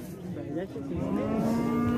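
A Hereford ox at a livestock market lows once in a long, drawn-out moo that swells louder toward the end, close by over faint market background.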